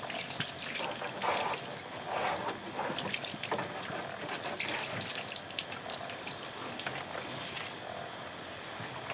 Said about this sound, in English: I like to just get real close with the bottle of distilled water and just pour it on.